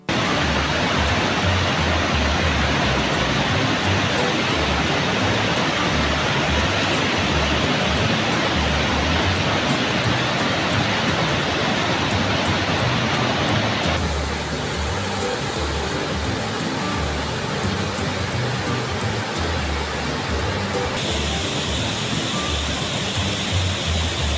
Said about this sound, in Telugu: అగో ములుగు జిల్లాల బొగత జలపాతం చూడు నాకైతే నయగర జలపాతం లెక్కనే కొడుతుంది